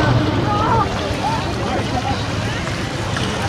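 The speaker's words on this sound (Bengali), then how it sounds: "একটা নৌকা ঘাটে লাগছে।" A boat pulls up to a landing on Vatra Bill, a wetland in Malda, with a low steady engine-like rumble and water wash under heavy wind buffeting, and a few faint voices in the background.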